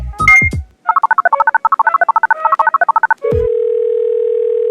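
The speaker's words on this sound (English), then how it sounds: "I'm going to need to make a phone call." A telephone being dialed: a few quick clicks, then a rapid run of touch-tone beeps, followed by a steady, loud, continuous dial tone held to the end, with no voices.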